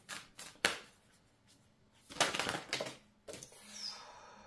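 Tarot cards being shuffled by hand, a few crisp riffling bursts separated by quiet pauses, close and fairly soft with no talking.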